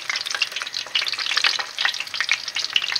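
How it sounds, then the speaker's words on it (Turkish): Cheesy potato balls fry in a small amount of oil, giving a steady, close crackling sizzle with no voices. "Hepsini kızartacağım."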